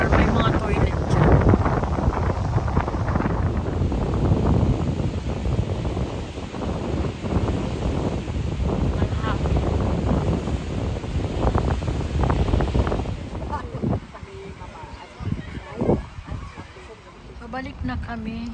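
Steady wind rushes across the microphone over a churning wash of water in Mallorca, with voices faintly mixed in toward the end.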